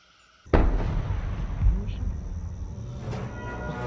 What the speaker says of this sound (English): Ready the cannons to pay tribute to the fallen.